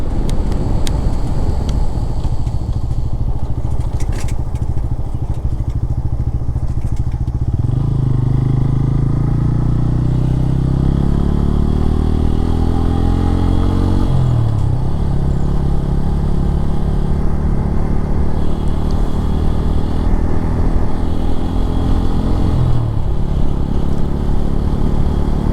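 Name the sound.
motorcycle riding on road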